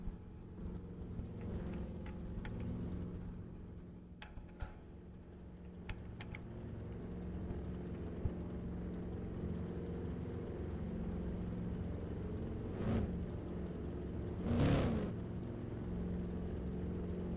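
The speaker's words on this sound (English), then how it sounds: "Alright, turn your engines off." Race car engines idle steadily in a modded racing game on a road course, a constant low drone running throughout, with a couple of brief louder swells of engine noise near the end.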